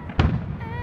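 A single firework bursts with one sharp, loud bang, then a short crackling tail fades into the background of an outdoor display.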